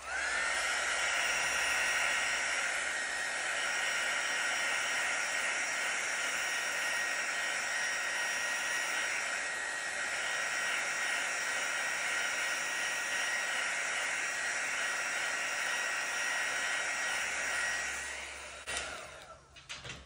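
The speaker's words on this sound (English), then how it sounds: "And now hit it with the heat embossing tool," Steady, loud whoosh of a heat embossing tool blowing hot air over poured acrylic paint for fluid art, running continuously for about eighteen seconds before clicking off.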